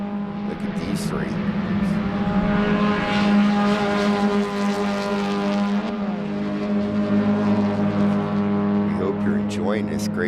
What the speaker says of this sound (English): Enjoying this great Spec Miata racing.